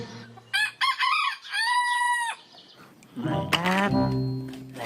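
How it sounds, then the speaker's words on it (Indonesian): A toy rooster crows a drawn-out cock-a-doodle-doo, bright and close, followed by a second, rougher electronic crow with clucking tones. "Widih, beneran, ini ayam jago."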